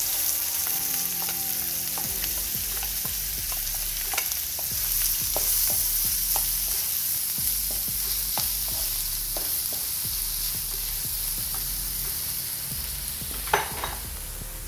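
Chopped onions and whole cumin fry in oil, a continuous close sizzle broken by many light scraping stirs in a loose, irregular rhythm, with a brief louder clatter near the end.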